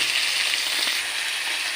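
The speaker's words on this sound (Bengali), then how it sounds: "পেঁয়াজটা দেওয়ার পরে একটু ভালো করে ভেজে নিতে হবে" Three large onions sizzling in hot oil with bay leaf, whole cumin, whole garam masala and dried red chillies, in a village-style chicken dish. A steady, close, bright frying hiss with no talk.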